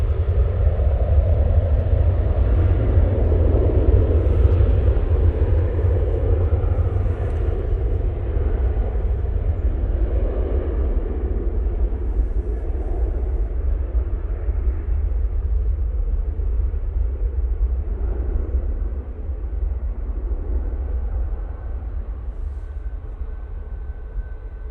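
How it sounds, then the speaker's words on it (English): Ryanair Boeing 737-800 lined up on the runway at Manchester for departure to Limoges, a low, steady engine rumble with faint whine, distant and gradually fading over about twenty-five seconds. "Ryanair now lined up. This one's going to be going off to Limoges using the 737-800."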